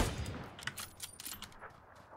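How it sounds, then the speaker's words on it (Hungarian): Gunfire in the PUBG video game, coming from around distant houses: a scattered run of sharp cracks and pops spread over a couple of seconds, fairly faint and far off. "Ott vannak a házaknál lövöldöznek."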